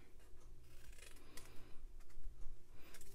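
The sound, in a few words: cutting grid paper pieces for a takeout treat box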